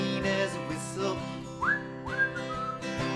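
A person whistles a tune in short, bright rising phrases, close and clear over soft background accompaniment, with no talk.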